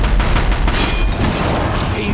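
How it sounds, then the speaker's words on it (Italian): Rapid machine-gun fire from a Thunderjaw machine in Horizon Zero Dawn, a dense, loud burst of gunfire and booms sustained throughout, with game action noise behind it. "Ma sembra una mitragliatrice questa."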